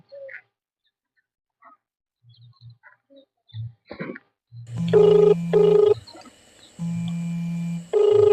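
Phone ringtone starts after a few faint taps, a repeating electronic ring in loud bursts with short gaps over the last few seconds, heard alone.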